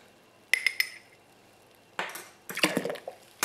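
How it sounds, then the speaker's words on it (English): Clinking of a utensil against a vessel while stirring yeast into elderflower wine must, a few sharp metallic chinks followed by brief scraping and clattering bursts, close and moderately loud. "So we're going to do a bit of a stir, disperse all the yeast."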